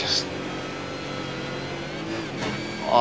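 A V8 race car engine hums at steady pitch as it runs through a corner in third, dropping to second mid-corner, growing louder with a sharper rev near the end, with talk over it.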